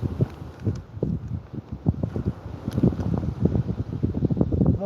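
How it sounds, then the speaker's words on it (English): Gusty wind buffets an outdoor microphone with low rumbling bursts and uneven thumps, a steady close-up roar that swells and dips throughout with no talking. "How's that wind, Cheney?"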